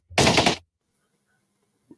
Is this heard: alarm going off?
no